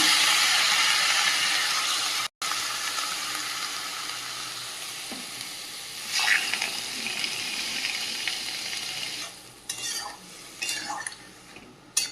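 Crab and five-vegetable chochchori cooking in a small pan, giving a steady, loud sizzle throughout with occasional utensil clinks and stirring scrapes near the end.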